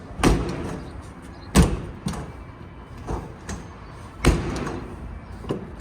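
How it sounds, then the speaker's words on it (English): Strut-assisted entry steps fold up and the entry door closes on a 2025 Forest River Salem Hemisphere Elite 36FL fifth wheel RV, giving a series of close, heavy clunks and thuds with a couple of louder knocks. "So stairs go all the way up, door closes."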